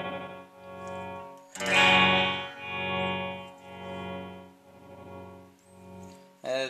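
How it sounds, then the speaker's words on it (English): Electric guitar through a DigiTech RP-300 processor with a low-frequency oscillator modulation effect, each strummed chord swelling and fading in a slow rhythmic pulse, moderately loud and close, no voices. "it just makes the sound oscillate up and down. That's the low frequency oscillators"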